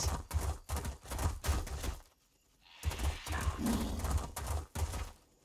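A horse galloping in The Elder Scrolls Online, steady loud clip-clop hoofbeats that break off briefly before resuming, with a snort or breathy whinny in the pause and no talking.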